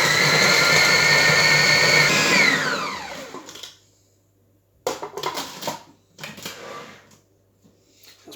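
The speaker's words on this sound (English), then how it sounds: "That's blended up really nicely." A blender mixes a flourless chocolate mousse cake batter of egg yolks and boiling water, a loud steady whir that winds down after about two seconds, followed by scattered clatter and handling noises.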